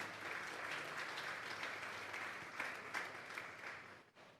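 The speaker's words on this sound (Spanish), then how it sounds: "Vamos a darle un fuerte aplauso al Señor esta tarde." A crowd applauding continuously at a Sunday church service, many hands clapping in a thick, even roar that swells slightly midway before tapering off at the end.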